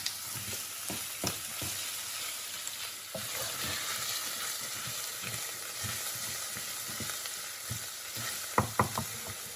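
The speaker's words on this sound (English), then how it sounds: "we sweated down the onions and the garlic now" Onions and garlic sweating in a pan for a rich tomato sauce, a constant gentle sizzle broken by intermittent scraping stirs and a few sharper clanks near the end, close up with no voices.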